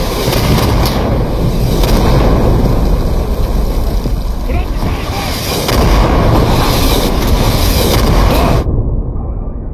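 An artillery barrage lands in a video game, a loud, continuous rumble of booming impacts and blasts that roll over one another for about nine seconds and then cut off abruptly.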